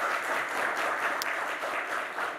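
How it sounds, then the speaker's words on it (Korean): Standing church congregation at a Korean Sunday service in Chile applauding in welcome for a visiting guest, a dense even wash of clapping filling the whole stretch at moderate loudness. "일어나시고 박수로 환영해 주시면 감사하겠습니다"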